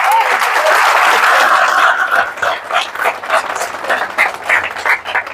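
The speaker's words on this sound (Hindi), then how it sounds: "ताली बजाना एक बार।" A seminar audience breaks into loud, dense applause that starts at once and then thins out into scattered, uneven claps.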